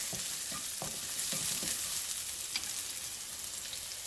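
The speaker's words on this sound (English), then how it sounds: "I'm going to start sauteing some aromatics. I'm going to add the whites of 2 to 3 scallions" Scallion whites sautéing in oil in a pan for a beef and rice noodle stir fry: a steady, close sizzle with a few soft stirring scrapes early on and no voices.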